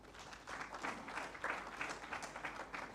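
Members of a national wildlife conservation conference audience clap for the tourism minister, a moderate, steady patter of hands in a hall lasting a few seconds with no voices over it.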